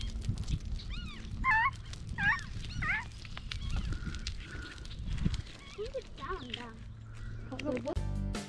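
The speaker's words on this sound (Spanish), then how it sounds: "Oyen los pájaros." Birds chirp and whistle in short repeated calls in a Canadian forest, near and fairly clear, with faint low background rumble and occasional voices.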